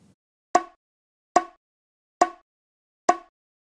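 Four sharp tapped hits ring out one at a time against silence, each short and percussive with a brief decay, evenly spaced rather than showing a clear quarter and eighth note pattern.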